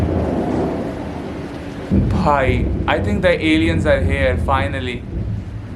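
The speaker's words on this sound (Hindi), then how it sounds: "बाहर बिजली कड़क रही है बहुत तेज़." Loud thunder from a storm outside rumbles continuously beneath rain, while people talk over it indoors.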